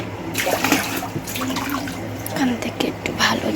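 Water poured out of a drinking mug in a home, a close, continuous gentle splashing and trickling, with a voice speaking over it.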